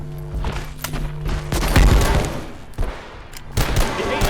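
Shotgun blasts in the Abiotic Factor video game, several loud booming shots spaced irregularly with rumbling tails between them, close and punchy amid game noise.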